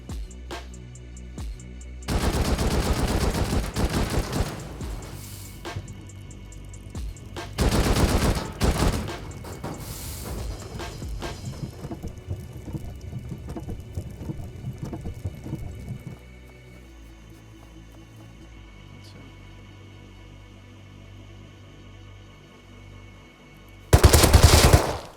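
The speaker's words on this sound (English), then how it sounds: "I went over with some explosive ammo." Explosive ammo fired in Rust on an iceberg base: long bursts of loud rapid gunfire in several stretches, separated by quieter ambient passages, ending in one more sharp, heavy burst.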